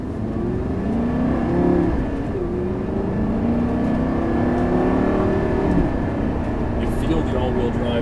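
A 2009 Lamborghini Gallardo LP560 engine revs and accelerates on a curvy road, its pitch rising and falling through gear changes, close and steady under a voice talking over it.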